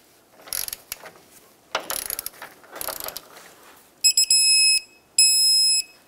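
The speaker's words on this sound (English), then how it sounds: "Now let's tighten the rear one, hold the bolt, and tighten up the nut side." A hand ratchet tightens a nut on a front lower control arm bushing bolt of a 1996-2002 Toyota 4Runner, giving three bursts of close, rapid metallic clicking. Two sustained high-pitched mechanical tones follow near the end.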